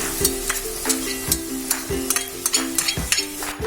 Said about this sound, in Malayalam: ഇനി നമുക്ക് അതിലേക്ക് ചതച്ചു വെച്ച ഉള്ളി ഇട്ട് കൊടുക്കാം